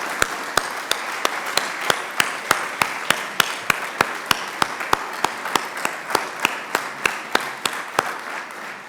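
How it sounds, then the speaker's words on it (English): Audience applause at a 2022 Healing Hands Guild and Profiles of Compassion induction ceremony sounds as evenly spaced, crisp claps over a soft background wash, holding a slow, regular beat for about nine seconds. "let's also lead a round of applause"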